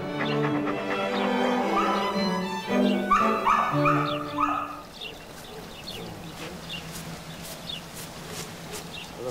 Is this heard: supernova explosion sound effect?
no